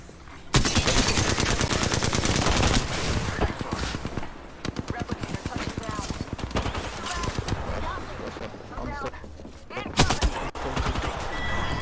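Rapid automatic gunfire in the video game Apex Legends, loud bursts of shots with short pauses between volleys, mixed with game effects and players talking over the action.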